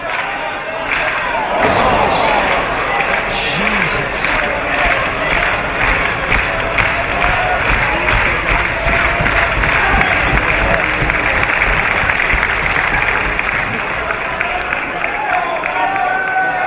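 A crowd of nearly 5,000 at a wrestling show at Wembley cheers and applauds loudly and continuously, a dense roar of claps and shouts with a commentator talking over it.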